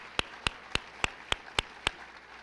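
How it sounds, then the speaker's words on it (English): Seven slow, evenly spaced claps ring out one by one at a school board athletics recognition evening honoring championship winners, each a sharp isolated crack over a quiet room. "a round of applause for everybody who won a championship"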